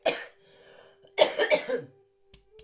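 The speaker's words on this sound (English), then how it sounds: "I'm going to cough, sorry." A single sharp cough, then a longer burst of several rough coughs in quick succession, close and fairly loud, with quiet pauses between.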